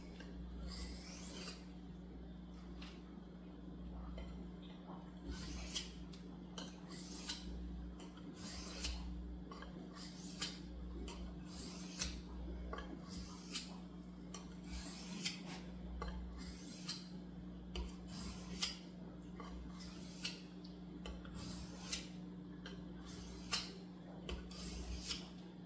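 A kitchen knife has its fine edge trued up on a small 4x2-inch fine-grit sharpening stone, giving steady soft rasping strokes with brief scraping peaks, close and fairly quiet over a constant low hum, with no talking.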